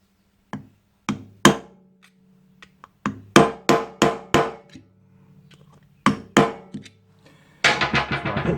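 Sharp metal-on-metal hammer blows drive a chisel against a rear wheel bearing seal on a 2006 Mazda Axela, struck in uneven bursts of single hits and quick pairs, ending in a rapid flurry of strikes, close and loud.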